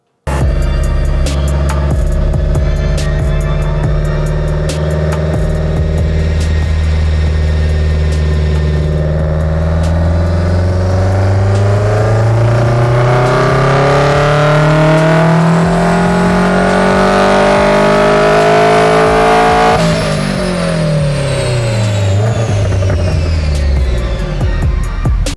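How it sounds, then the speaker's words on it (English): Subaru WRX with an FA20 engine fitted with unequal length headers, revving up and down continuously for about 25 seconds, loud and close with rising and falling engine pitch and a rumbling tone, no talking. "what does it sound like when they put unequal length headers on an FA20, which is your 15 to 21 WRX"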